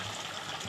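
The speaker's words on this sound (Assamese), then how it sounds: "এয়া গৰম পানী দিছোঁ দেই" Hot water poured into mutton frying in a pan, heard as a brief, close, hissing rush of liquid with no talk.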